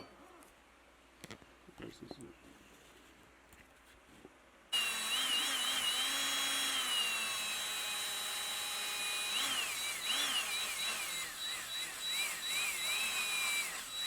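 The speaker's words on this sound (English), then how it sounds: "So we started drilling out our holes with a 1/16 inch bit." A Milwaukee bit in a power drill bores a hole on a 2019 Toyota Tacoma 4x4, a loud continuous whine starting after a few quiet seconds of faint knocks and handling sounds.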